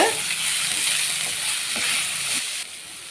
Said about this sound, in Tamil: ஒரு பெரிய தக்காளி பொடியாக நறுக்கி வச்சுருக்கேன் அதையும் போட்டு நம்ம வதக்குறோம்